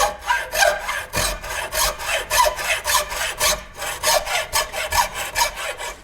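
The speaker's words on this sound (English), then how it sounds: "Now we just need to cut this down to 32 inches to match the length of our bamboo. Something I've always done for bow making is to use a hacksaw" A fine-toothed hacksaw cuts wood to length while building an all-wood takedown bow. Quick, even back-and-forth strokes rasp up close, with two short pauses between runs of cutting.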